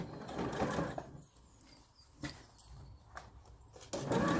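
A sewing machine stitches around a scrub bag, running over the French seams at the sides. A steady mechanical whir is loud at the start, drops to quieter clicks and handling in the middle, then surges back at the end.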